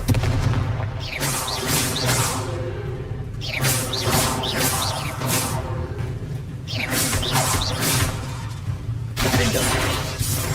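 Repeated fiery explosion blasts from the Confringo spell in Hogwarts Legacy, several loud crackling bursts with shattering debris and whooshes arriving in quick succession over a dense rumbling game soundscape.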